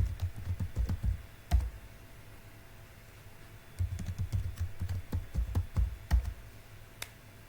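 Password typed on a computer keyboard, two quiet runs of soft rapid key taps separated by a brief pause, with a few sharper clicks, close and alone.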